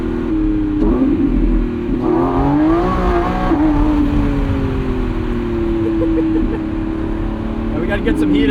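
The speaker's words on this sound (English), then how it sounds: "That was all four wheels spinning." A 2025 Lamborghini Revuelto with its 1,001 hp V12 spins all four tires at night, the engine revving hard with rising and falling pitch and tire squeal, loud and close.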